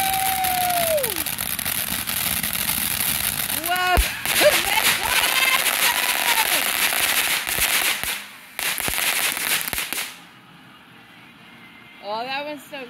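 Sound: backyard fireworks popping and burning

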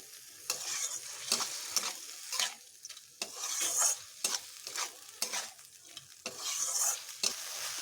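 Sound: frying and stirring bitter gourd in a pan, water added

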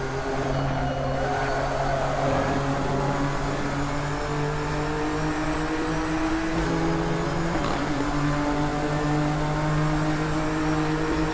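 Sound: GT-R GT3 sound mod engine in Assetto Corsa video game

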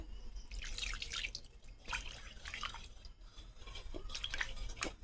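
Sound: water poured into a pot to rinse off spices

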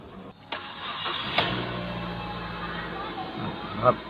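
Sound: Mazda 3 car engine starting

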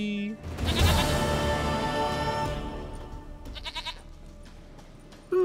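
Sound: goat bleating in the video game The Witcher 3

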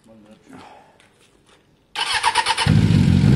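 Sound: Suzuki Bandit 600 motorcycle engine starting up

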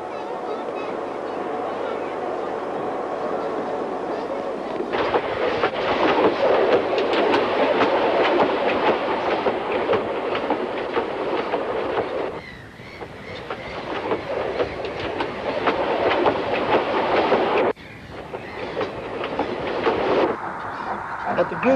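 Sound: Southern Railway petrol rail car running on track

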